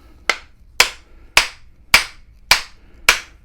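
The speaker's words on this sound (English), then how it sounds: "let me tap this with a hammer and find it" Six sharp metallic taps of a hammer on an axe head, struck at a steady, even pace about half a second apart, each with a short bright ring, close and alone.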